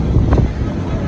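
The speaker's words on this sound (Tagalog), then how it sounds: "Lakas ng hangin." Strong wind buffets the microphone in a loud, continuous roar with gusty surges.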